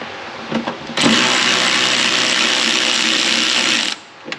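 A ratchet spinning out a 10mm bumper screw on a Nissan 370Z, a loud, close, continuous buzzing ratchet run of about three seconds, preceded and followed by brief clicks.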